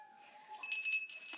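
Bell ornaments on a Christmas tree jingle as they are moved, a short, bright metallic tinkle that swells up briefly after a faint ringing tone.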